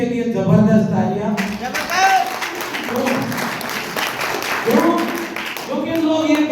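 Audience at a business meeting in Jind applauds, breaking into strong clapping midway while someone speaks over it with amplified voice; the clapping swells, then fades under continued talk.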